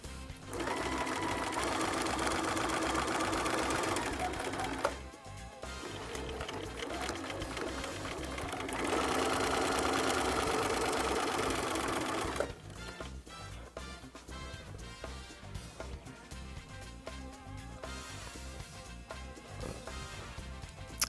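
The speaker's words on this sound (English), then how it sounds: "So I'm going to go over to my machine and stitch both of my darts." A sewing machine runs in steady bursts while stitching darts into the waistband of denim jeans, with short pauses between runs and a lighter, uneven stretch of stitching near the end.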